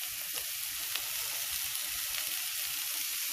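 Spices sizzling and frying in a pan for a bhuna bitter gourd curry, a steady close crackle and hiss throughout with no talk.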